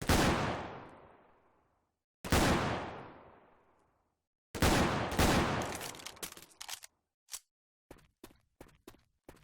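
Video game gunfire from shooting the floor of a map: two single loud shots, each with a long decaying boom, then a rapid burst and scattered sharp shots that thin out toward the end, with silence between.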